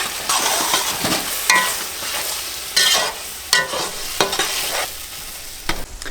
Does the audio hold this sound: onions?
yes